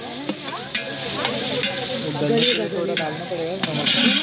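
Tomatoes frying and being stirred for chicken curry, likely over a wood-fired stove outdoors, a steady sizzle with repeated scraping stirs and clinks close by, and voices talking in the background.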